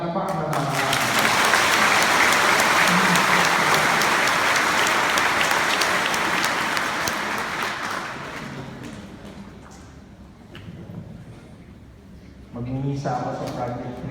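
Audience at a Filipino retreat bursting into applause, a dense wash of clapping that swells, holds for several seconds and then fades out, followed by a speaker talking.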